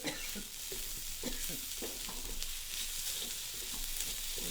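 Soy-based sauce reducing in a pan, a continuous bright sizzle with faint stirring scrapes and clicks at close range, with no voices.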